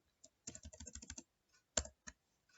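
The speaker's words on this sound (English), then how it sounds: "You have to simply type net and then local group" Computer keyboard keys tapped while entering a Windows 11 command, a quick run of close, crisp clicks followed by two isolated keystrokes, with no voice.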